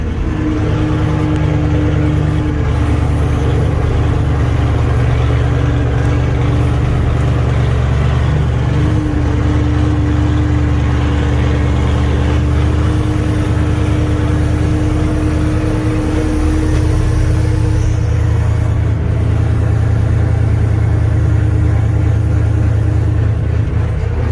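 A rebuilt 700 tractor engine runs steadily up close with a heavy, constant drone, its tone shifting slightly as the transmission is put into reverse.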